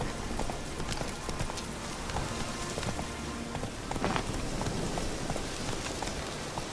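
Hoofbeats of a horse galloping in The Witcher 3 video game, a fast steady clip-clop over a dense rain-like hiss, with no talk over it.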